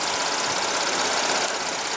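A 2015 Buick LaCrosse's 3.6 L V6 engine idles steadily nearby, an even, smooth hum with a soft airy hiss and no change in pace.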